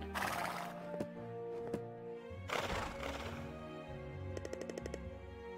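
A horse whinnies twice in the video game My Time at Portia, with background music and sharp popping effects scattered through.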